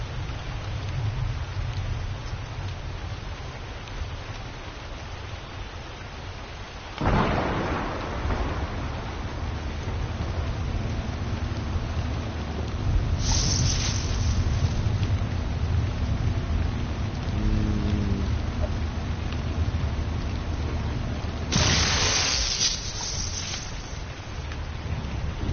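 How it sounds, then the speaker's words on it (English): Rain pours steadily in the video game Ark Survival Evolved, a constant hiss broken by three loud cracks of thunder that rumble and fade across the stretch. "turn that rainstorm off"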